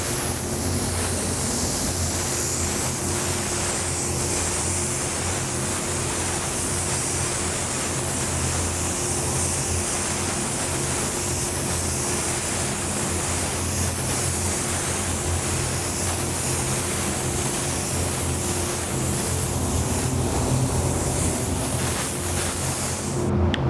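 A paint spray gun hisses in a continuous, even stream, laying down a coat of poison green candy paint, loud and unbroken for the whole stretch with no talking.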